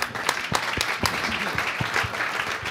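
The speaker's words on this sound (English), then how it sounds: "Let's give them a round of applause." An audience claps for a panel at a music-making event, a short dense burst of applause filling the room that carries on at even strength.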